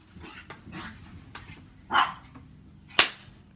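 Pet dogs indoors let out soft huffs and whimpers punctuated by two sharper yelps or barks, close to the microphone with quiet room noise between.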